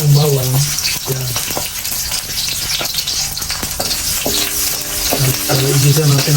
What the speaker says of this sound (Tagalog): pag may init na itong mantika, ilalagay na natin, unahin itong bawang